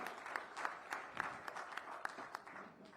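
An audience applauding at a Good Governance Day government awards ceremony in Gujarat, faint, evenly spaced claps falling in a steady rhythm, heard from a distance with no voices over it.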